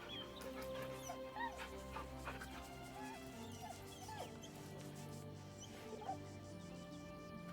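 Dog in Baldur's Gate 3 whimpering and yipping in short high whines over a sustained tonal music bed, faint and close, repeated several times.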